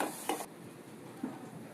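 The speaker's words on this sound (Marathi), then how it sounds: "आलं लसूण पेस्ट टाकून व्यवस्थित मिक्स करू" Ginger-garlic paste and tomatoes are stirred in a pan: a short scraping burst, then quiet, faint sizzling with a second soft stroke later.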